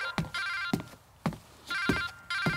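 A mobile phone rings indoors in repeated electronic trills, about five bursts in quick rhythm, fairly close with some thumps between rings.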